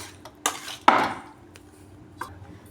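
Spoon scraping and clinking against a bowl while chicken curry is mixed with yogurt, a few sharp clatters with softer stirring between, close and alone.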